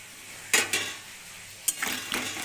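Potatoes and spices fry with a splash of water for a fish curry, with a low background sizzle broken by a few close scraping stirs of a spatula against the pan.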